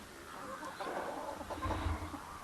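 Silkie hens cluck softly in the background among outdoor ambience, the low clucks faint and scattered.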